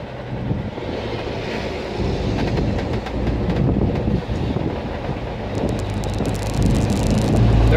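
A 1947 Chevrolet pickup truck chugs along in third gear at about 40 mph, a low, rough engine rumble steady throughout, mixed with heavy wind buffeting and road rattle.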